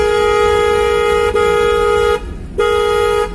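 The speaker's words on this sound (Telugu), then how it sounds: "హార్న్ కొట్టాలి" A car horn blares loud and close on a city road during a driving lesson, as one long honk with a brief dip, a short pause and then a second shorter blast.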